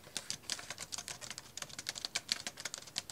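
Quick, uneven clicking of keys typed on a Bluetooth keyboard case for an iPad, light and close, in rapid bursts with brief pauses.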